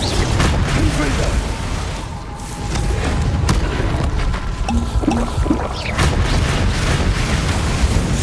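Confringo spell explosions in Hogwarts Legacy combat make a steady, rumbling wash of booms and crackling bursts, loud and continuous. It dips briefly in the middle, then a few faint tonal chimes sound beneath the blasts.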